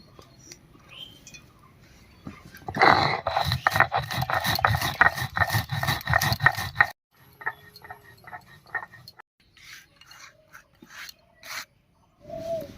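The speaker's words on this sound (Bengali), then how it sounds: "ভেজে রাখা মশলাটা এবার গুঁড়ো করে নিচ্ছি।" Roasted whole spices are ground to powder, a loud rattling, whirring burst for about four seconds, followed by shorter scraping and tapping and a few softer pulses.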